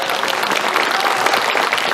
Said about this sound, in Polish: Martusia, jeszcze dajmy oklaski dla całej tej obsługi technicznej.